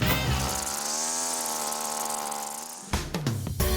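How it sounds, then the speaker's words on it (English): A string trimmer runs steadily and loud for nearly three seconds, its motor whine holding a sustained pitch before it cuts off and brief clattering knocks follow. "We're gonna have you go back on the weed whacker."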